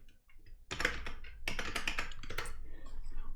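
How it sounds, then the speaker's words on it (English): Random text typed on a computer keyboard, quick runs of clicky keystrokes in short bursts with a brief pause before the typing resumes, close and clear. "So I'm just gonna type in some random stuff here."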